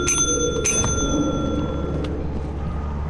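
Bright metallic bell rung to sell in the Lethal Company video game: two quick clear dings near the start, ringing out over a low rumbling background hum.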